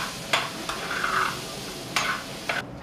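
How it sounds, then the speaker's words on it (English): Vegetables sautéing in a pan with a steady sizzle, broken by a few sharp scrapes and clinks as they are stirred, with no talk. "All right, that's sauteing"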